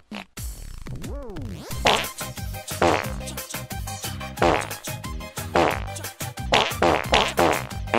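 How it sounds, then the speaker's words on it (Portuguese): A comedic fart sound effect: a long, buzzy, wavering blast with sliding pitch, followed by a run of loud sputtering bursts in an uneven rhythm, close and unaccompanied. "Peido sombra é aquele que você peida, vai andando ele acompanhando."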